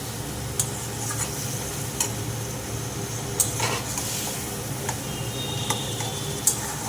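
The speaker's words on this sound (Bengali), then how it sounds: "ভালো করে নাড়াচাড়া করতে হবে" Olives boiled with salt and turmeric are stirred and mixed in a pot for a sweet, sour and spicy pickle, with a soft wet sizzle under irregular spoon clicks and scrapes.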